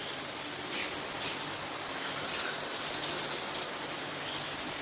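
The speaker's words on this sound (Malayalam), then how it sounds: "നല്ല മഴ എന്ന് വെച്ചാൽ നല്ല മഴയാണ് കേട്ടോ" Heavy rain pours in a dense, even hiss with scattered patters throughout, steady and fairly loud, with no voices.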